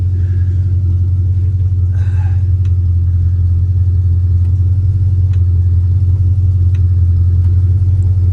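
A project car with an old cam idles steadily with a loud, continuous low rumble as it blows out exhaust, close and alone, with a couple of faint clicks above it.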